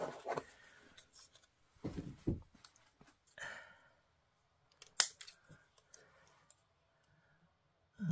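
Scissors snip the corners off cardstock tabs in a papercraft project, a few crisp close cuts in scattered clusters with quiet pauses and one sharp click between them.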